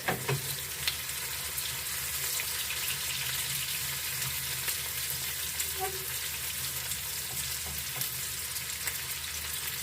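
Onion frying in a pan, turning soft and translucent with a light browning, gives a steady, close, even sizzle that runs the whole time with a few faint clinks over it.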